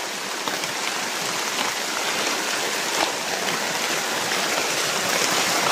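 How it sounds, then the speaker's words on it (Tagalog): Heavy rain pours down in the Philippines, a dense, continuous roar of drops hitting surfaces, loud and close, with a slight swell toward the end and no voices. "Lakas ng ulan talaga, no?"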